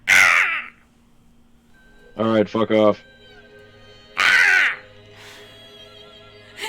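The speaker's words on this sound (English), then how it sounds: "I don't know if that's what crows sound like." Crows cawing in a treed outdoor setting, loud harsh calls in short bursts close by, with a voice briefly speaking between the caws.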